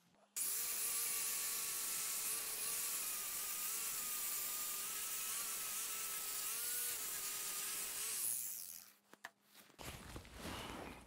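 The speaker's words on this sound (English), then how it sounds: "I'm going to switch over to the sanding disc." A power sanding disc with 40-grit paper whines steadily against rotten wood for several seconds, then winds down and stops, leaving brief handling noises.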